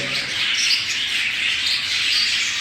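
Many pet birds chirping together indoors, a dense continuous chorus of high tweets and squawks, loud and close, with no pauses.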